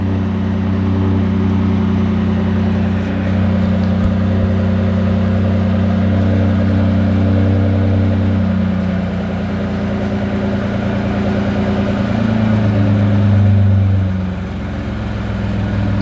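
A Ford F-150 STX with its exhaust resonator deleted rumbles at a deep, throaty idle, loud and close, holding steady before a brief swell and dip near the end, with no voices.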